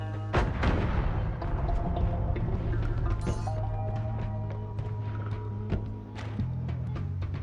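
A burst of sharp explosions and crackling debris from bombs going off in the game Noita, one loud blast early followed by scattered pops and rumbling, with no talk over it.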